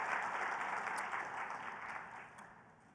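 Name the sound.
audience round of applause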